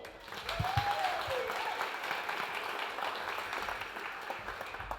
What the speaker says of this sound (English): can we give a quick round of applause for Tobi Moyle?